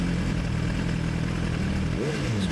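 A motorcycle idles close by with a steady low putter, then its engine note dips and shifts near the end as it is brought to a stop and parked.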